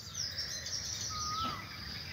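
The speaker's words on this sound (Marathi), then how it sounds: "पक्षी चिवचिवाट कलकलाट मध्ये ही सकाळ उजडली आहे" Morning birds chirp and call outdoors among wet trees under an overcast sky, with faint, thin high calls and one rising whistle drifting over a soft, low background hum.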